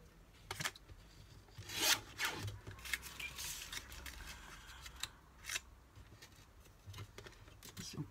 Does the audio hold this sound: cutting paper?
yes